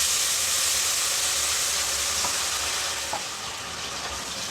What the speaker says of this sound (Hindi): कढ़ाई में हम डायरेक्ट इस छाली को डालेंगे।